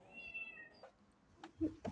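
A pet cat meows faintly a few times at close range, short mewing calls in a quiet kitchen with light handling noises between them.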